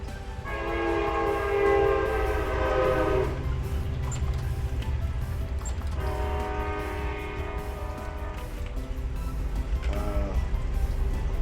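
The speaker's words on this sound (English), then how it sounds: "Sounds like we got another train coming up." A train in a building video game approaches with a loud rumble and sounds its horn in two long, tonal blasts a few seconds apart, then keeps rolling past without any talk.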